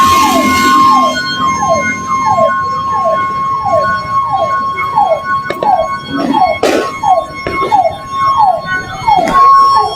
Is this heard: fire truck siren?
yes